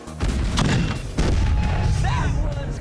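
A cannon fires during a MythBusters myth test, giving heavy booming blasts at close range with sharp onsets around 0.2 and 1.2 seconds, followed by sustained loud rumble.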